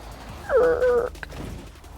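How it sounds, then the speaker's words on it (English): A car braking in the racing game Forza Horizon 4 gives a short, loud tonal squeal with a steady pitch. It lasts about half a second, is followed by a faint click, and sits over low engine rumble. "That's the car braking noise."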